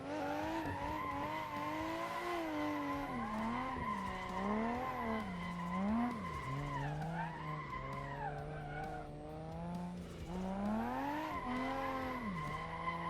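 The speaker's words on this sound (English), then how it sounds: "I made it around that corner, and then I freaking, and then I spun out." A car drifting and spinning out in the Assetto Corsa racing game, with continuous tire squeal and skidding over a revving engine whose pitch rises and falls repeatedly, loud and sustained throughout.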